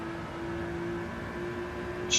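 Nissan GT-R race car engine in Gran Turismo 7 during a GT-R Cup race, a loud, sustained droning whine holding steady pitch while running in another car's slipstream, with a brief bright burst near the end.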